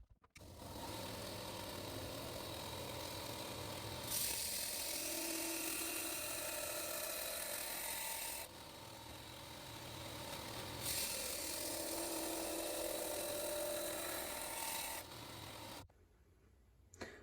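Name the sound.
belt grinder grinding knife bevels into a Nicholson file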